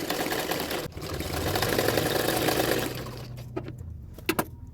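A sewing machine stitching a blouse neckline runs steadily with a close, continuous whirring hum for about three seconds, then stops, leaving a few light clicks and taps of handling.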